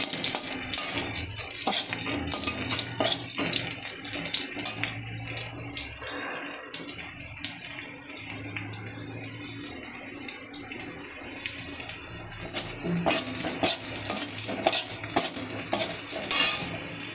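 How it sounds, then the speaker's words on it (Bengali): Onion fries with panch phoron in hot oil, a steady sizzle running underneath frequent clinks and scrapes of a utensil against the pan, busier toward the end, with no one speaking. "এই যে পাঁচফোড়নটা লাল লাল হয়ে গিয়ে দিয়ে দিলাম অল্প কিছুটা পেঁয়াজ"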